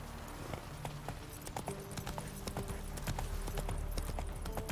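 Hooves of Roach, a horse in The Witcher 3, clop in a quick, steady galloping rhythm, fairly faint and constant throughout.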